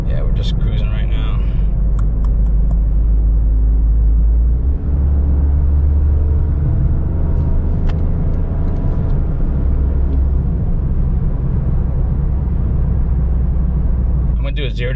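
A 2025 Toyota GR Corolla automatic cruising during break-in, its engine a steady low drone under constant road and tire rumble heard from inside the cabin, with no voices.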